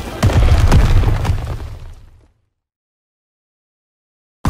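A smoke grenade going off in Call of Duty: WWII on Xbox One, a loud close burst with a broad rushing hiss that gradually decays over two seconds before falling silent.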